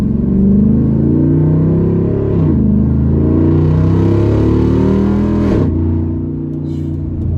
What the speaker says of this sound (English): It's a true dual exhaust, and it does drone